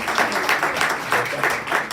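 Congregation applauding in praise of Jesus Christ during a church sermon, a steady wash of clapping from many hands with a gently pulsing rhythm, fairly close and filling the room.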